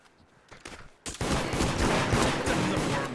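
Dense, rapid gunfire erupts after a second of quiet in the multiplayer horror game Deceit, a loud continuous volley of overlapping shots that runs steadily to the end.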